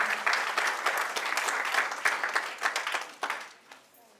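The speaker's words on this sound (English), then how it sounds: "Please clap for her." An audience at a national climate dialogue applauds in a dense burst of clapping that thins toward the end into scattered claps.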